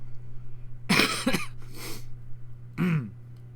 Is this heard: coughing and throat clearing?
yes